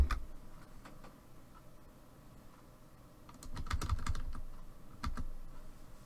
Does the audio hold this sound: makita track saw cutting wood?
no